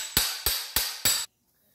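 A hammer strikes a drift punch four times in an even rhythm while dismantling a Peugeot 205 Turbo engine, each sharp metallic blow ringing briefly before the last cuts to silence.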